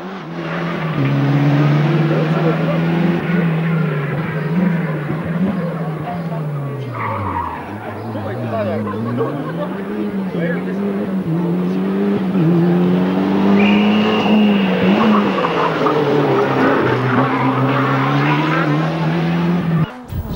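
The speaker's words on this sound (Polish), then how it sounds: "Czwartym samochodem Ford Escort Cosworth jedzie załoga litewska za kierownicą" Lithuanian crew's Ford Escort Cosworth rally car at the 1996 Rally Poland, its engine note loud and close, rising and falling through gear changes, with tyre skids and an announcer talking over it throughout.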